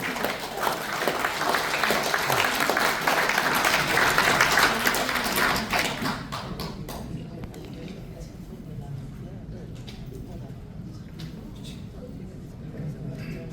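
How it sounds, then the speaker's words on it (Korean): Applause from an audience at a launch rally in the Korean Press Center's 20th-floor press club, welcoming a co-representative to the podium; dense clapping fills the first six seconds, then fades into low murmuring room noise. "박수로 맞이해 주십시오"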